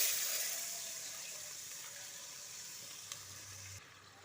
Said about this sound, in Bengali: এবং হলুদ গুঁড়ো ভালোভাবে মিশিয়ে নিয়ে এতে দিয়ে দেব জল